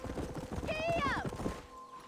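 Horse hooves clip-clop at a quick, even gallop in the Red Dead Redemption video game, running steadily beneath a voice and a whistled tune, with a brief snort near the end.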